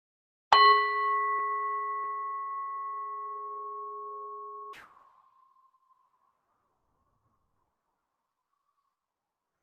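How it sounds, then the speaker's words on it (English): A single meditation bell struck once, a bright clear ding that rings on with a long, slowly fading sustain for about four seconds, then silence. "Now go ahead and invite the bell to bring our meditation to an end."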